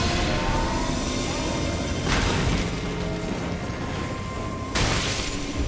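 An explosion in the video game Elden Ring sounds as dull, booming bursts over a constant dense game soundscape, with two sharper swells a few seconds apart.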